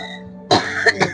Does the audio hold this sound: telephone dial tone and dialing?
no